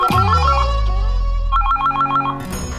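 A home telephone rings with a looping electronic ringtone melody, loud and close, in two bursts followed by a short break.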